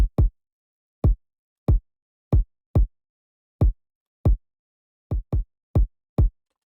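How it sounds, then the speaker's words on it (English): Hard-hitting kick drum pounding out a sparse beat, loud and clipping where it lands with 808 bass notes, about a dozen punchy low thumps in an uneven rhythm with silence between them. "It's a hard hitting kick."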